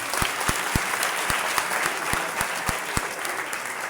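Audience clapping at a church speaking event, a sustained, even wash of applause from a crowd, with a few sharp, closer claps popping out at a steady rhythm above it.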